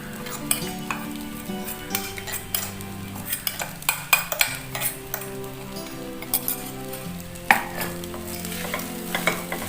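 A spoon stirs rice mixed with ground poppy seed, cashew and sesame powder in a metal pan, scraping and clinking in irregular strokes with occasional sharper knocks, close and fairly quiet.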